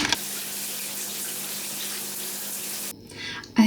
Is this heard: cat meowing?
no